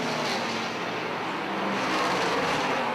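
Race cars roar continuously around the track at Airborne Speedway, a dense, steady engine drone from several cars at moderate distance with no talk.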